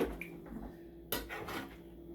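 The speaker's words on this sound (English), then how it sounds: "We're gonna mix this just like this." Utensils clink and scrape against a bowl as bok choy and other food are mixed, with a few sharp metallic taps close by.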